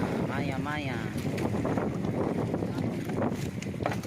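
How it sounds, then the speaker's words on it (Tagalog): Strong wind buffets the microphone over a rough, churning sea, with a voice talking over the continuous roar. "maingay ang mga tunog dahil nga malakas po ang hangin ngayon, malakas po ang dagat"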